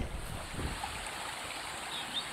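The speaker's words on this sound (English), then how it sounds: "This river is really pretty, and there's like all these like mini waterfalls." A pretty river with many small waterfalls in the Brecon Beacons, heard as a soft, continuous rushing and babbling of water, faint and steady, with slight wind noise on the microphone.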